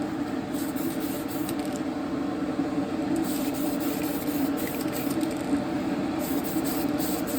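Light coats of spray paint hissing from an aerosol can onto a Tamiya Grasshopper part, steady close bursts of airy spray with brief pauses between passes.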